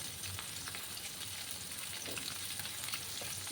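Pieces of rohu fish frying in oil in a pan until reddish, a soft but continuous sizzle and spatter throughout with no speech.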